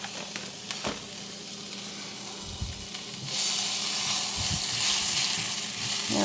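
Spinach sautéing on a Ninja Foodi XL grill gives a steady hiss and crackle that grows louder and denser partway through, with a few soft stirring bumps and no voices.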